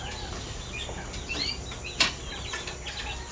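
Sick chickens on a farm giving scattered soft clucks and chirps over a steady outdoor background, with one brief sharper call standing out.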